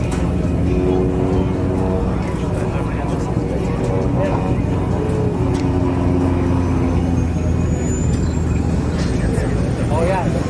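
An RV-7 and an RV-8 fly in very tight formation at an airshow, their engines a loud, steady propeller drone filling the whole stretch, with a faint rising whine drifting past near the end.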